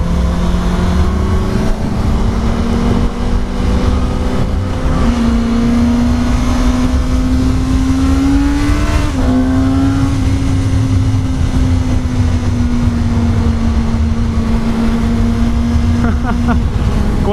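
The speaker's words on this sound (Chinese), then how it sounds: "果然是 GSX-R 750的引擎啊！" A 2018 Suzuki GSX-S750 motorcycle, its engine derived from the 2005 GSX-R750, cruising on a highway, with a loud, steady engine drone that rises and shifts in pitch while wind rushes heavily throughout.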